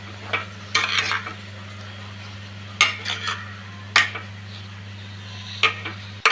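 A spoon scrapes and clinks in a pan as upma with freshly grated coconut is stirred, giving a few scattered near scrapes over a steady low hum, with no one talking.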